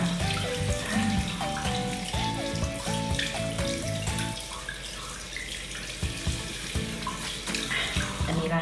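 Tap water runs steadily while a face is rinsed with plain water during a Thai herbal skincare routine, a continuous wash of noise under louder background music with a clear melody.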